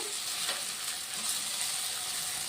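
Taro root pieces frying in hot oil give a steady, dense sizzle with soft crackling, close and constant throughout.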